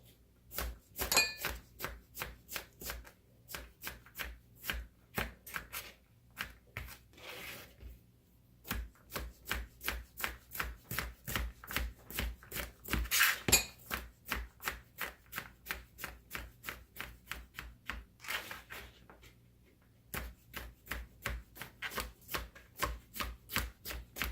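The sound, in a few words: knife dicing food into small pieces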